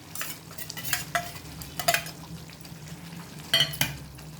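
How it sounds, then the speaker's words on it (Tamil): Intermittent scraping and clinking of a spoon stirring fenugreek leaves into a pot of tamarind gravy over a soft, steady simmer, with a few sharper metallic taps. "போட்டு நல்லா கலரி விட்டுடலாம்."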